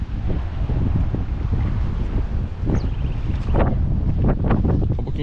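Strong wind buffets the microphone on a fishermen's deck at Praia Grande beach in Arraial do Cabo, a continuous loud rumbling roar with gusty bursts throughout.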